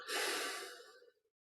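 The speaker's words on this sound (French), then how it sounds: "On relâche le ventre et on expire." A single deep, slow exhale during a guided breathing meditation, airy and close, fading out gradually after about a second with no talk over it.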